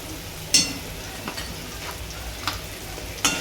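A potato curry base of softened tomato with salt and turmeric sautéing in a pan, a low steady sizzle broken by a few sharp spoon scrapes and taps, close and without talk.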